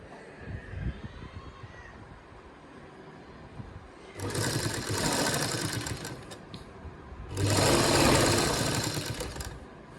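A sewing machine stitches a buckram cuff in two loud, close bursts of rapid whirring, each lasting a couple of seconds, over a low steady room hum.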